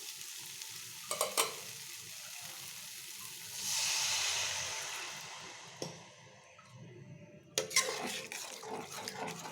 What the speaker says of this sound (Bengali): জলটাকে ঢেলে দেব।